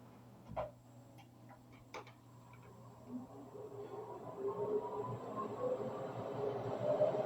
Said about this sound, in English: Usually, the larger your fan, the louder it's going to be. I'm going to turn this on.